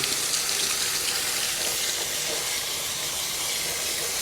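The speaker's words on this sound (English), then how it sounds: "Water ran through it." Steady rushing water with a hissy spray, continuous and fairly loud throughout, as water is rinsed through a cooling unit.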